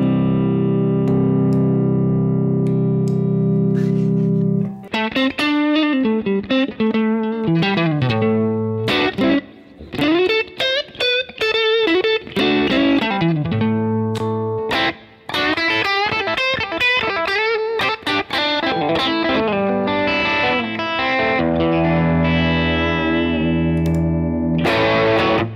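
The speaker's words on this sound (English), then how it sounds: "here's some classic tones that I associate with that PRS sound." A PRS electric guitar plays classic tones through effects, with distorted chords and single-note lines in loud, sustained phrases and brief gaps between riffs.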